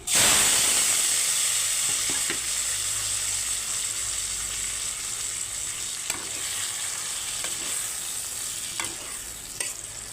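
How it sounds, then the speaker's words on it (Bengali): Prawns frying in oil in a wok give a steady, loud sizzle and hiss that eases slightly over the span, with a few faint stirring clicks and no talk. "কড়াই তেল দিয়ে দিয়েছি আর এই চিংড়ি মাছগুলো এখন ভেজে নিচ্ছি"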